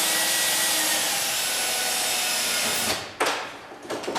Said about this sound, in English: drill it from this side